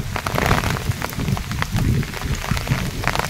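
Heavy rain pours steadily at the brimming Rakkasakoppa reservoir on the Markandeya river, a dense, continuous hiss and patter that stays loud and even throughout, with no voices.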